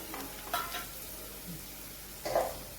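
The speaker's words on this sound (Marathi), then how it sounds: "हळदी पावडर मिक्स झाली की त्याच्यामध्ये आपण बटाटे आणि शेंगदाणे फ्राय केले ते मिक्स करू" Fried potatoes and peanuts stirred with turmeric in a pan for Maharashtrian kanda batata poha, a soft low sizzle broken by a couple of louder scraping and clinking strokes of the utensil.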